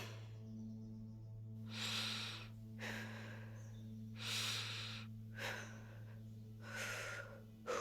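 A character in a zombie video game takes slow, deep breaths to calm down, five audible inhale-exhale cycles, close and clear over a low steady hum.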